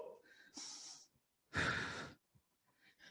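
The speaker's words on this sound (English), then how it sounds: "Breathing really deep. Our breath is going to get us through this move." Deep breathing during a yoga exercise: two slow, close breaths, a long breathy inhale followed by a fuller, forceful exhale like a sigh, with quiet gaps and soft short breaths at the end.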